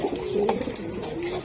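A red checker racing pigeon coos at a female, a low throaty rolling coo repeated in a soft, close murmur with no talk over it.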